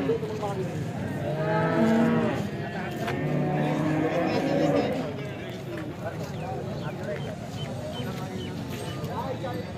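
Cows mooing at a busy cattle market, with several deep, drawn-out calls in the first half rising over steady crowd chatter and nearby voices throughout.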